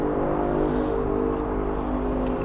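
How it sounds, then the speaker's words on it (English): Traffic on Interstate 84 beside a campground makes a steady low roar and hum, distant and unbroken, with no distinct passing vehicles. "Fair amount of traffic"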